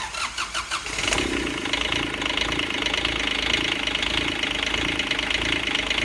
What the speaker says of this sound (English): it's a good time to start the engine and make sure the turbo actually spins.